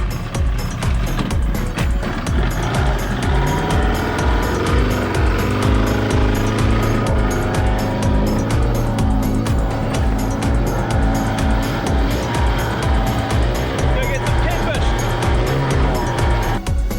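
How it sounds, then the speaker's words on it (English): A small, noisy two-stroke outboard on a boat in New Zealand's Hauraki Gulf drones loudly and steadily throughout, a harsh buzzing engine note with wind noise, and no clear talk. "that little two-stroke is very noisy, making me deaf"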